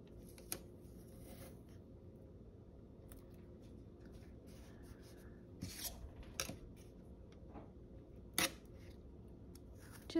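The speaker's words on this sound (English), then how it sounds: "I'll have to trim that off the top a little bit" Scissors trimming paper for a mini planner spread give a few soft, brief snips and light paper rustles close by in a quiet room, with no talking.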